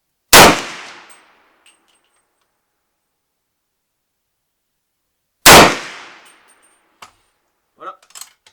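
Two sharp, loud gunshots from a WW2 USM1 .30 Carbine ring out about five seconds apart outdoors, each decaying quickly, followed by faint metallic clinks and handling noises.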